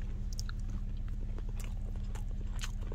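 Raw halfbeak fish, cut with scissors, is chewed close to the microphone, with soft wet crunching bites in an irregular rhythm over a low steady hum.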